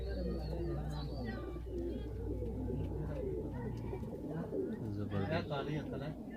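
Several Ferozpuri pigeons coo in low, rolling, repeated calls close by on a rooftop, overlapping one another, with someone speaking over them.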